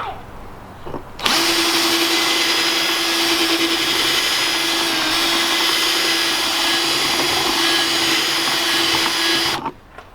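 A power drill whines loud and steady for about eight seconds, opening up a hole for a rivet nut during a Challenger wickerbill installation, starting and stopping abruptly.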